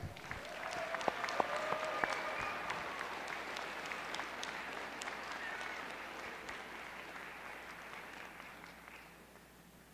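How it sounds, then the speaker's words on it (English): An audience at the Special Olympics Wyoming Summer Games in Gillette's CAM-PLEX applauds in a broad, fairly distant wash of clapping that slowly fades over ten seconds. "Let's give a huge round of applause."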